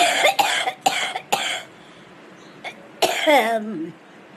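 A person coughs several times in short harsh bursts, near and loud, followed by a wheezy, throaty cough that trails off.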